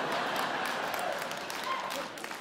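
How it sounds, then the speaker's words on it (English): Audience applause rolls through a comedy club during a stand-up set, a steady wash of clapping held at an even level from start to end with no break. "That gets a bigger applause break here."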